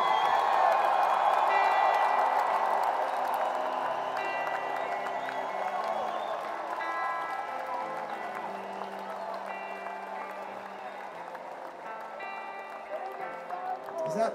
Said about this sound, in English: Can we have a big round of applause for Mississippi Nights?